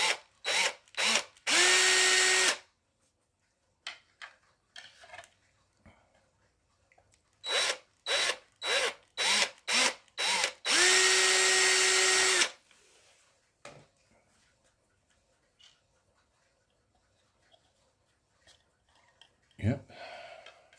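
A power drill with a 2.5 millimetre bit is triggered in quick short pulses into a piece of wood, then runs in sustained whirs, twice over, followed by quiet handling noises and a brief voice.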